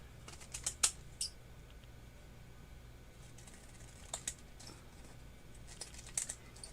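Pinking scissors snipping through material in a few quiet, sharp clicks and crunches, clustered in small bursts with pauses between, close and alone over a faint room hum.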